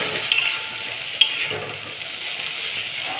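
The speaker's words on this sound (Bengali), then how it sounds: "দেখো ভাজা হচ্ছে।" Amudi fish frying in a pan produces a steady, bright sizzling hiss with a couple of small pops and utensil taps, close and fairly loud, with no talking.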